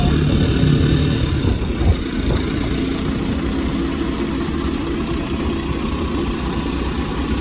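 A motorcycle engine idles steadily while the rider looks for parking at a busy market, a continuous low rumble that stays even and fairly close throughout, with no talking.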